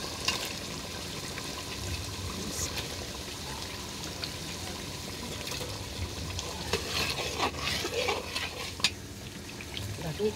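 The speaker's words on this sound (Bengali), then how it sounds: "কষানো হয়েছে মশলা।" Spices sautéed and stirred in a pan for a rohu fish curry, a steady close sizzle with scraping spoon strokes and occasional clinks, continuous and fairly loud.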